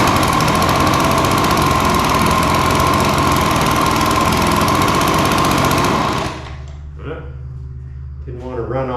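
An Echo PB-265LN leaf blower, missing a carburetor part, runs loud and buzzing on choke just after starting, then cuts out abruptly, leaving quiet room sound and a voice speaking at the end.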